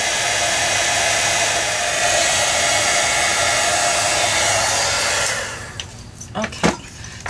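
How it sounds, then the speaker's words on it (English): Heat gun blowing steadily and loudly for about five seconds while melting embossing powder on a watercolored card background, then cutting off and leaving a few faint handling knocks. "So then take your heat gun again, and then just heat that up,"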